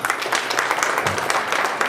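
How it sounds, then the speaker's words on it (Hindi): An audience at the opening session of an eye-care event applauds, a brief, steady burst of crowded clapping that runs throughout. "जोरदार तालियां उनको।"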